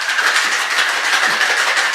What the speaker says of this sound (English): That's the sound of stirring.